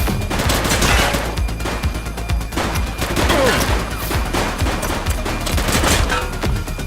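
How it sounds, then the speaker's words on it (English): Sustained shootout gunfire from the police video game The Precinct, dense bursts of rapid shots and volleys cracking continuously throughout, loud and close with busy background action. "He's shooting!"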